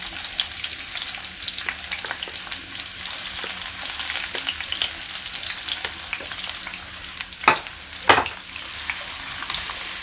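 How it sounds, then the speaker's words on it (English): Chopped onions fry in hot oil in a pan for a street-style egg bhurji gravy, giving a steady close sizzle with a few louder stirring scrapes near the end. "Now I will fry this onion for at least 5 to 10 minutes."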